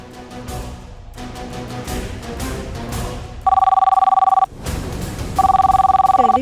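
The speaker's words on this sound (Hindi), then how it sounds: "टेलीफोन पर फोन आ रहा है" Telephone ringing indoors in two loud bursts of rapid electronic trills separated by a pause, heard over faint background sound with no talk.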